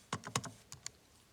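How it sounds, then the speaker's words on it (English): Fingers tap a few quick number keys on a calculator, a short burst of crisp clicks close by followed by two more isolated presses in a quiet room. "you just type that into your calculator"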